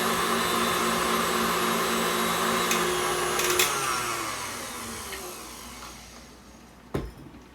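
KitchenAid stand mixer whips cream with a loud, steady motor whine and whir, then winds down and fades, ending with a sharp knock near the close.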